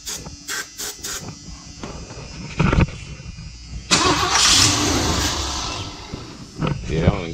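A 1978 Ford E150 engine cranks without fuel and never catches, giving short bursts of starter whirring and then a longer loud grinding crank, close up. Voices talk between the attempts.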